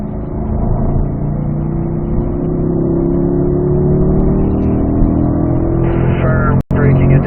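A car accelerating hard on the Spring Mountain race track, a loud, steady engine drone with pitch rising smoothly through the gear, heard from inside, cut by a brief gap near the end.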